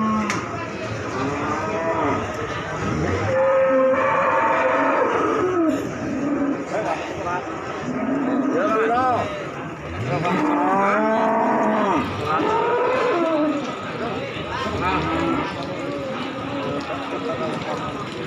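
Pegon cattle mooing repeatedly in long, low calls amid a busy livestock market, with people talking nearby and crowd noise throughout.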